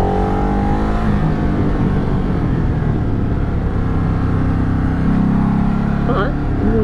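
A heavy 240 kg motorcycle engine drones steadily while riding in California, with the revs rising and falling under continuous wind noise, close and loud throughout.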